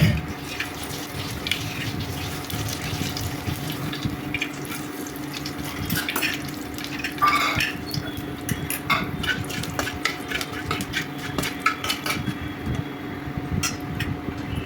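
Bay leaf, dried chilli and five-spice crackle in hot oil under a constant close hiss, broken by frequent sharp clicks and scrapes from a stirring spoon.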